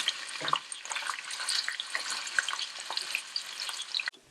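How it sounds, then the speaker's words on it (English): Onions fry in oil in a large pot over medium-high heat, a steady hissing, crackling sizzle with occasional stirring scrapes that carries on close and even before cutting off near the end. "add oil, then add onions. Fry until the onions are golden brown."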